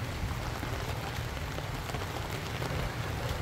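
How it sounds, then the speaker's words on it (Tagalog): Steady heavy rain pours down on a surface, a dense even patter with no pauses or voices. "Bumakas na ang ulan mga kasuyo."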